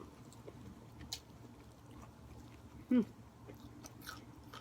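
Close-up chewing of a Thai miang leaf wrap filled with blood cockles and dipping sauce: soft, wet mouth sounds and faint crunches over low background hiss, with one louder bite or smack partway through and no talking.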